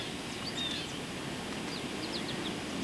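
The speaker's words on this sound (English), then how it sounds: "You can hear the birds chirping in the distance here." Birds chirp faintly in the distance on a spring day after a heavy snowstorm, short high calls scattered over a steady outdoor hiss with no talking.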